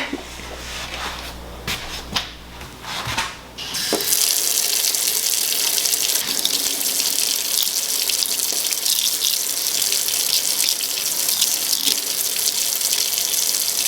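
Tap water runs steadily into a sink while a bar of soap is washed, a brief pause of handling first, then a loud, continuous close-up splashing rush.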